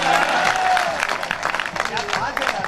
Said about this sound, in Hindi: मैं बिल्कुल नहीं कह रहा हूँ तालियों की, अपने आप बजा रहे हैं।